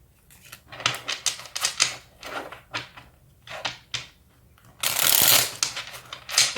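Tarot cards are shuffled and drawn in repeated quick riffling bursts, close and crisp, ending in a louder, longer shuffle.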